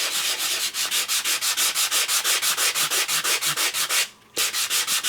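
A craft surface being scraped with a tool, making fast rhythmic rasping strokes, about five per second, close and fairly loud, with one brief pause near the end and no talking.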